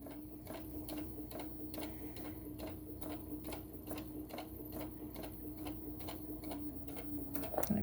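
A sewing machine stitches through tote bag fabric at medium speed, keeping up a steady, close rapid ticking with a periodic mechanical beat that runs throughout.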